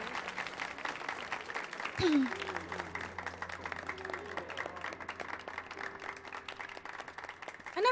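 Brief crowd applause plays in the video game Final Fantasy XIV over a soft music bed, with a voice talking over it.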